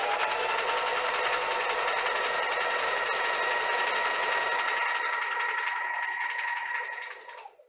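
A sewing machine stitches fabric in one steady, loud, continuous run of rapid needle strokes, then winds down and stops at the very end, with no talking.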